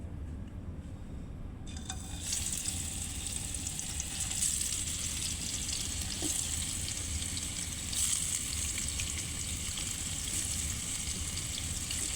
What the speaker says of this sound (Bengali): লবণ হলুদ দিয়ে মেখে তেলে ভেজে নেব